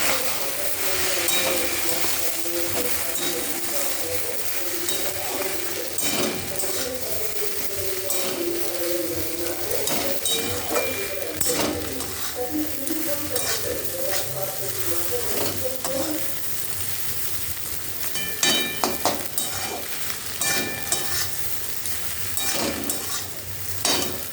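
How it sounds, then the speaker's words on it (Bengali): Fried bread pieces are stirred into a sizzling sauce in a pan, with a steady close sizzle and repeated scraping and clattering from the stirring throughout, and no voices. "এই সসটা এবার নেড়ে নিয়ে এর মধ্যে পাউরুটিটা ভাজাটা সব একসাথে দিয়ে নেড়ে নেব।"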